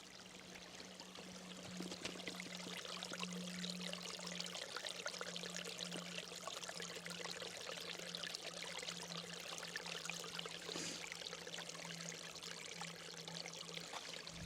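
Steady rushing flow of a nearby stream outdoors, a continuous close wash of water with a faint low hum running underneath, no voices.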